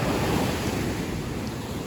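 Sea waves wash onto a beach at Novy Svet in Crimea, a loud continuous roar of surf mixed with gusty wind buffeting the microphone, no voices present.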